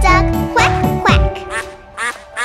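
A duck's quack is sung within a children's nursery rhyme over upbeat music, several rhythmic quacks voiced by a singer imitating the bird.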